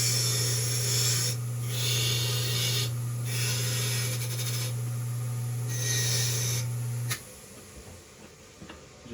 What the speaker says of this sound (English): Go over your wire wheel.